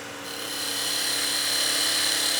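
A woodturning gouge cuts a wooden spinning top blank on a spinning lathe, a steady, rising whirring and hissing cut that swells in the first half-second and then holds loud and continuous, with no talk.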